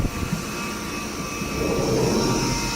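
Machinery hum from a South Korean-made CNC machining center running in a factory shop, a steady broadband drone with high whining tones, continuous and fairly loud throughout with no talking.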